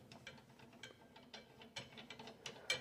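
Ratcheting clicks of an arbor nut being hand-tightened onto a table saw blade after the washer goes on, a quick series of close, irregular mechanical ticks and rattles with a sharper burst near the end.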